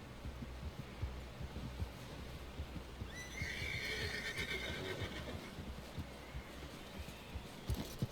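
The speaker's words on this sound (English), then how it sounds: "Someone help John down off this horse." A horse whinnies loudly in a long, wavering call in the video game Red Dead Redemption 2, while steady hoof thuds and low rumbling continue underneath throughout.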